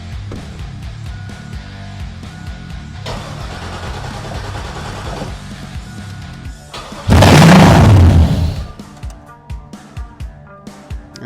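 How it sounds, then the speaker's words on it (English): An LS V8 engine swapped into a Chevy S10 cranks and fires up with a loud, short roar. It then settles into a rough, lumpy idle with uneven pulses. "So we're getting fuel to the rail. Let's see if it'll fire real quick."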